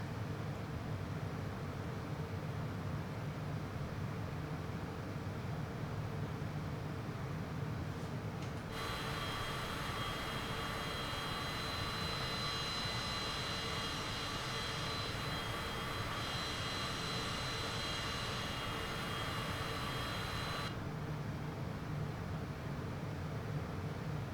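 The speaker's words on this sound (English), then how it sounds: "We're reducing our engine output just a touch." A propeller aircraft engine drones steadily in Microsoft Flight Simulator 2024, a constant close hum with a brighter whining layer rising in the middle stretch.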